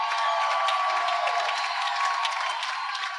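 Children cheering loudly in a church, a dense continuous roar of young voices with scattered whoops and claps, strong and steady throughout.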